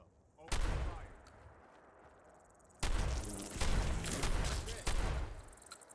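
Gunfire in the Fallout 4 video game: a loud shot at the start, then a dense burst of rapid repeated shots with heavy booming reports, mixed with faint game voices.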